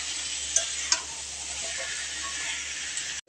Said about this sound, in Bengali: দিয়ে আমি ভালো করে কষে নেব।